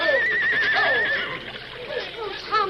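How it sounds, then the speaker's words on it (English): Wagon team horses breaking loose in a river current whinny shrilly, with a long wavering neigh followed by shorter calls, over splashing water and background voices. "The horses. The current's carrying them away from the wagon."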